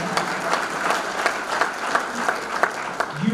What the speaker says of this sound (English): Please give the good folks from Gray Manufacturing a big round of applause.